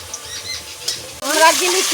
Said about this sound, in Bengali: বন্ধুরা এখন ক্যাপসিকামটা ভাজা করে নেবে